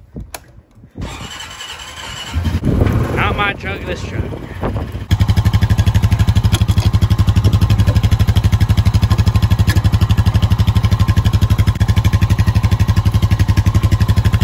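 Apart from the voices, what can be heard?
Honda Rubicon 520 four-wheeler ATV starting and riding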